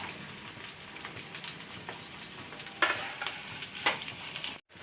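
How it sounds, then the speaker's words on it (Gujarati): Thin slices of taro root, called chips, sizzle and crackle steadily in hot frying oil, a soft continuous hiss with a few sharper pops near the end. "અને અહીંયા તળાય છે અડવીની ચિપ્સ અડવીની કાતરી"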